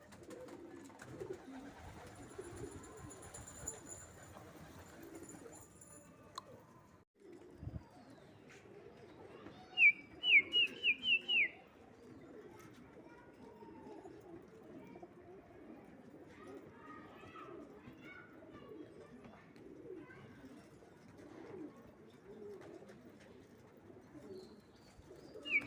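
Pigeons coo softly and low during a flight session of gola kabutar bazi, faint and somewhat distant. People talk intermittently in the background, with a brief burst of sharp chirps partway through.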